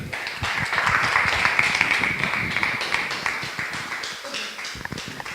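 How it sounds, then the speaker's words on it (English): An audience applauds, many hands clapping in a dense patter that gradually thins out, with a voice faintly audible underneath. "give him another round of applause"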